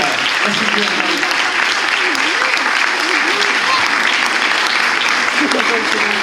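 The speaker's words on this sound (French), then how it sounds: "On peut l'applaudir encore très fort, Béatrice." A live audience at a mentalism show in Mouvaux applauds loudly, a dense, steady wash of clapping that holds at full strength from start to finish.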